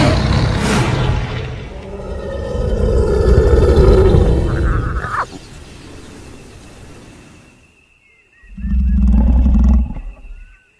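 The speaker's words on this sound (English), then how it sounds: "Another roar comes, from much closer this time." A lion roars in a long, loud, rumbling bellow that swells and then fades, followed after a short quiet by another heavy, deep burst of roaring.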